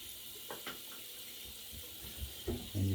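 A shaving brush is rinsed under a running tap, giving a steady close hiss of flowing water into a sink with a few soft splashes and bumps.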